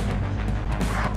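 Explosion blowing up the shop in Hard Bullet, a loud, dense burst of rumbling blast noise that fills the whole short moment with no pause.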